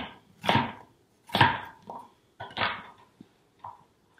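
A knife coarsely chopping an onion flat side down on a cutting board, about five or six crisp, close chops spaced unevenly, heard alone with no talking.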